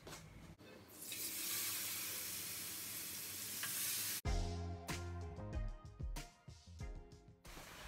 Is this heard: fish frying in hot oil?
yes